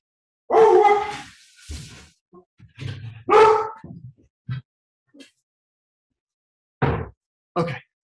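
A few sharp dog barks ring out close by, mixed with a person's laughing voice and short pauses between.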